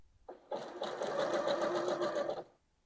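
A Janome sewing machine runs a line of stitching, a close steady motor whir with rapid needle clatter lasting about two seconds before stopping abruptly.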